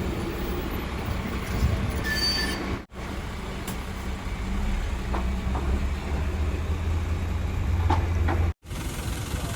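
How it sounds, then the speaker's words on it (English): A tram rumbles along tracks nearby in Adelaide, with steady wheel noise, brief metallic squeals and clattering over rail joints. "Tram na yan, parang train din."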